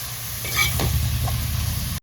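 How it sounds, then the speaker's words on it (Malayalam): Shallots and garlic sizzle in hot oil in a pan while being stirred for a squid roast, a loud, close, continuous frying hiss with brief scraping strokes of the spoon. "നല്ലപോലെ ഒന്ന് ഇളക്കി കൊടുക്കാം."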